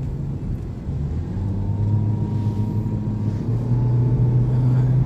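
A 2019 Toyota Vios with a 1.3-litre four-cylinder engine drives along, its steady low engine and road rumble rising slightly in pitch as it picks up speed, heard from inside the cabin with no talk.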